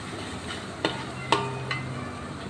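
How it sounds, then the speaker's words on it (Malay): Spice paste and fish curry powder being stirred in a cooking pot for a young jackfruit and cockle curry, heard as a few scraping strokes over a faint sizzle, quiet and close. "Kita kacau rata-rata"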